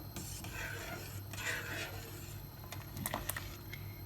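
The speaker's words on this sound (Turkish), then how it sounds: "Şöyle bir karıştırıyorum." A spoon stirring homemade sour cherry juice in a pot, a continuous scraping rasp against the metal with a few faint clinks near the end, close and fairly quiet, with no voices.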